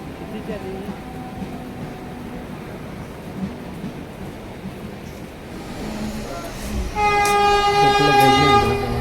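A Mumbai local commuter train rumbles steadily along the tracks, then a loud horn blares near the end; faint voices sit under the noise.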